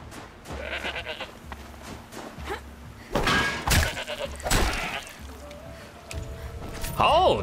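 A goat in the video game Horizon Zero Dawn bleats in short wavering calls, one near the end rising and falling, amid game effects, thumps and a sustained tone, with someone talking over much of it.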